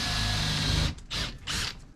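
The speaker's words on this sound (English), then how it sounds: "holes drilled out to 9 or 10mm" A power drill with a 9 or 10mm bit bores out holes in boards for a van bed build, whirring steadily and then in short bursts as it cuts.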